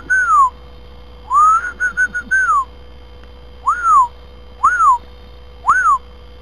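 A person whistles outdoors in short repeated two-note phrases, a longer run of notes followed by three separate bursts, loud and close against a faint steady hum with no talking.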